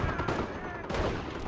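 Rapid bursts of rifle and machine-gun fire in the World War II strategy game Company of Heroes, during an invasion of Normandy battle at Montebourg. The shots come as dense, close cracks in two clusters, with voices mixed underneath.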